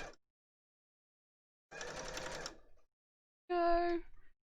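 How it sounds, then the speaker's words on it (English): Sewing machine stitching the outside of a cosplay bin around its grommets, heard as two short bursts of whirring motor with a pause between and a whine at the end. "Don't sew through the grommets."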